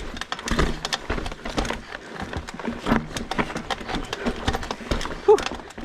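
A full-suspension mountain bike with creaky, worn suspension clatters over a rocky trail, giving a dense, continuous rattle of knocks and jolts up close.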